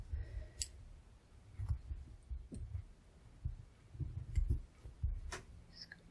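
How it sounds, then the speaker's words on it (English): Small scissors snip through a tacking stitch on hand-embroidered fabric for a pin cushion, giving a few quiet, sharp clicks spaced irregularly in a still room. "I'm going to take this tacking stitch out. So just cut through carefully on the front"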